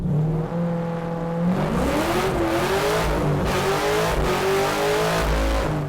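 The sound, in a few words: car with LS engine accelerating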